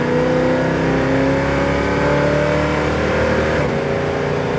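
A deep, rumbling 426 HEMI V8 in a 1970 Super Bee climbs steadily in pitch as the car accelerates, a brief drop marking a 4,000 RPM gear shift before it pulls again.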